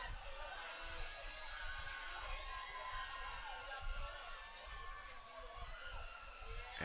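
A crowd cheers and shouts at a 2023 Bahamas Games softball match on a Friday evening, a continuous noisy roar from the stands with scattered whoops throughout.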